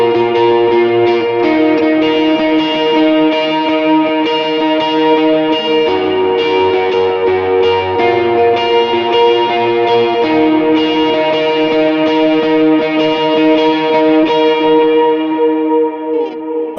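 Electric guitar lead line played at tempo through chorus, dual delay and reverb, with ringing sustained notes blending into a shimmering, echo-laden wash that stays loud and continuous throughout.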